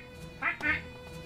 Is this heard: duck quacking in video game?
yes